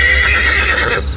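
A horse whinnies loudly and close up in a single neighing call used as an audiobook sound effect, with faint hoof clip-clop beneath and no speech.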